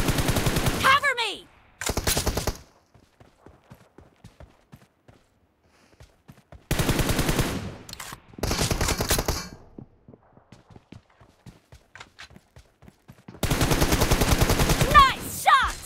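Rapid automatic gunfire in a shooter video game, coming in several loud, separate bursts with quiet gaps between them and faint clicks in the pauses.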